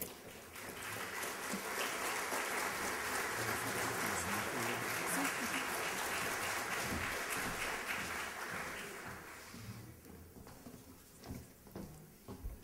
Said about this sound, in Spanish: despedimos con un fuerte aplauso al licenciado Pichardo.